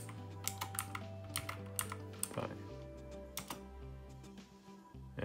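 Typing on a computer keyboard while setting up a Raspberry Pi, with quick light key clicks in short bursts over a steady electrical hum, close and fairly quiet.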